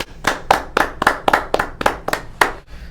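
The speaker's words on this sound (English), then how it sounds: "Can we get a round of applause real quick?" About nine sharp claps in a steady, evenly spaced rhythm, close and fairly loud, fading at the end. They come from a small group or a lone clapper during a political talk-show interview, with no voices heard.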